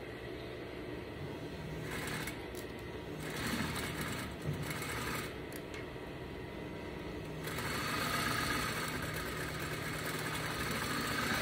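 Sewing machine stitching back over a seam on a double welt pocket bag, a steady mid-pitched motor whir running continuously with slight surges in speed, close and alone with no talk.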